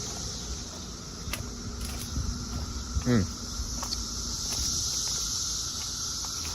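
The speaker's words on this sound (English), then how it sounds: "The cicadas are crazy right now." A loud, steady high-pitched buzz of cicadas fills the air continuously in Montgomery County, Maryland, with a brief nearby voice-like sweep and scattered faint clicks underneath.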